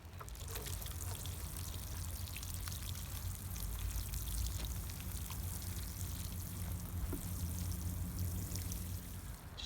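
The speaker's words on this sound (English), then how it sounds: "Now watering time." Water pours steadily onto plants on an allotment, a continuous soft splashing hiss under outdoor ambience, fairly faint and unbroken throughout.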